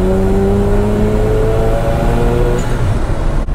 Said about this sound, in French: Le turbo quand il charge là c'est impressionnant.